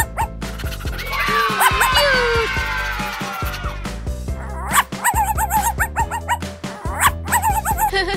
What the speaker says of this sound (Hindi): शफा, कुत्ता।